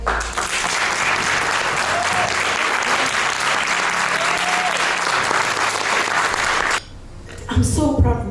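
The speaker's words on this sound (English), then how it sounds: "I just wanted to give an applause today" Dense, sustained applause from an audience at an album listening session, steady and loud for several seconds before cutting off, followed by brief voices and movement.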